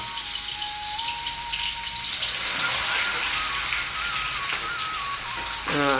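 Pieces of the hadmodi herb are dropped into boiling mustard oil in a large pan and crackle with a continuous bubbling sizzle. The sound is close and steady, with someone talking faintly underneath.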